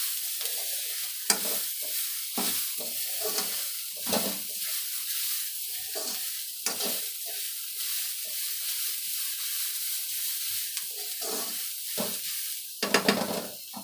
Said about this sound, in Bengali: তো এখন এগুলোকে আরেকটু ভালো করে মিক্স করে নিই।